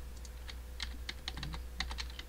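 Rapid keyboard typing in a submarine warfare simulator, irregular clusters of clicks over a steady low machinery hum, fairly quiet and close.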